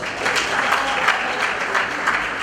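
Audience at a Northern Uganda film awards gala claps steadily and loudly, a dense, continuous wash of hands with slight swells and no talking.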